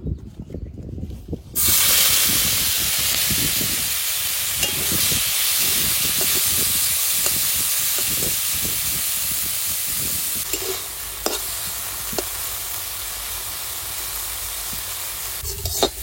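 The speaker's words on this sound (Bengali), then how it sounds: "এবার চিংড়ি মাছগুলো ভেজে নেবো।" Prawns frying in hot oil in a pan: a loud, continuous sizzle and hiss starts abruptly after a short quiet moment and carries on steadily, with a few scraping knocks of stirring toward the end.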